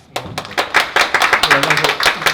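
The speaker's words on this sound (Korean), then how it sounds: "박수 부탁드리겠습니다." Audience at a regional film forum on post-pandemic strategy clapping to welcome a presenter, a crisp run of individual claps that starts sparse and quickly fills into close, rhythmic applause from a modest group.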